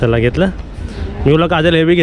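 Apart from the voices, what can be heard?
No everyday noises stand out.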